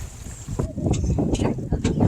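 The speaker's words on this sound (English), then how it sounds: "The wind's picking up, that's why." Wind gusts buffet the microphone aboard a sailboat on the Intracoastal Waterway near Stuart and St. Lucie, Florida, a rushing, uneven roar with water and boat noise beneath and faint voices.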